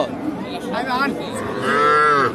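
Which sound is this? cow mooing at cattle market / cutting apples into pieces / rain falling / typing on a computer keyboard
cow mooing at cattle market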